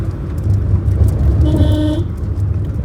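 Manual car driven uphill on a hill road in third gear, its engine a steady low rumble throughout, with a brief tonal horn-like toot near the middle.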